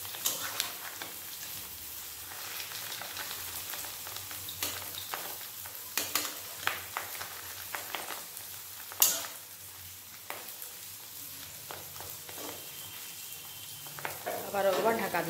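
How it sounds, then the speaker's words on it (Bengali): Fish egg pakoras fry in foaming oil over a low gas flame, a steady crackling sizzle that runs throughout at moderate level, with occasional clatters and a sharp clink near the middle. "এই পকোড়াগুলো ভালোভাবে ভাজা হয়ে গেছে"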